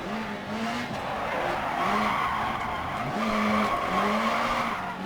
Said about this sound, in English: There you go, there's a clutch kick.